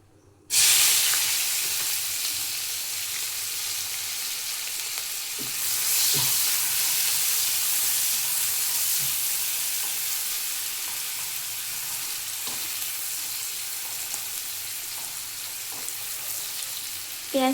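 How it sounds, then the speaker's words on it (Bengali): Chopped onions drop into hot oil and set off a sudden, loud, even sizzle that holds steady to the end, with occasional soft utensil taps and no talking. "এই তেলের মধ্যে পেঁয়াজ কুচি দিয়ে দেবো।"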